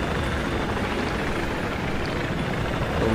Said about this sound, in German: Hol ich mir doch den Heli.